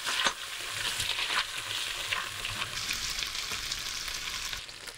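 Garlic, shallots, fennel and aromatics sizzle and crackle in a saucepan while being stirred, with a spoon scraping the bottom now and then, a steady close frying hiss with no talk.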